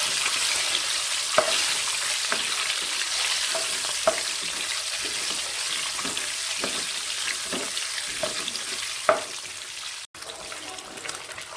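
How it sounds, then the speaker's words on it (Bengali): Eggs frying lightly in hot oil for a masala egg curry give a steady, close sizzle with scattered pops and light spatula taps, with no talk. "তেল গরম হয়ে এসছে, এবার ডিমগুলো হালকা ফ্রাই করে নেব তেলে দিয়ে।"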